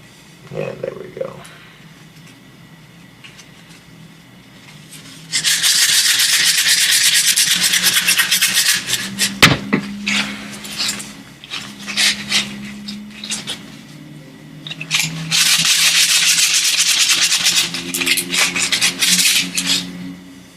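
Rough rasping of sandpaper on a handmade wand, in two long steady loud bursts separated by quieter scraping and handling noises, close up.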